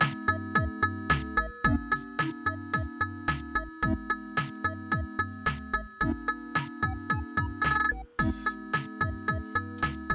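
Ableton Operator synth envelope loop repeating rapid plucky tones over a steady beat, with a stutter glitch at each loop end, rhythmic and hypnotic, played alone at a moderate level.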